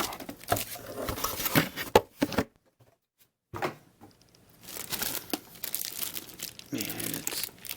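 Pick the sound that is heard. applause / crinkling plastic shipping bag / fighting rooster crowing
crinkling plastic shipping bag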